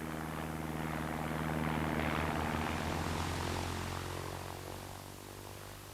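A firefighting water-bombing propeller plane passes overhead, its engine drone swelling to a loud peak and then slowly fading as it moves away.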